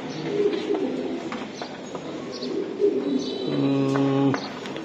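Racing pigeons at a breeder's loft coo in low, repeated throaty phrases that overlap in a close, busy chorus, rising into a fuller, sustained coo near the end.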